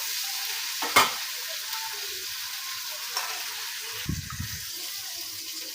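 Leafy greens frying in hot oil with onion, chili, garlic and salt in a pan, a steady close sizzle with a few scraping stirs and clatters of the spoon, with no talking.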